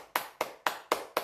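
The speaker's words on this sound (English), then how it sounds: "People clap to Grace." Five sharp claps spaced evenly about a quarter second apart, each a bright burst that fades quickly, played as a sound effect during a livestream with no talking.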